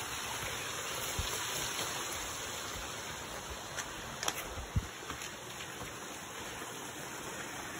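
A stream flows steadily, a constant rushing wash of water with a few faint knocks and rustles nearby.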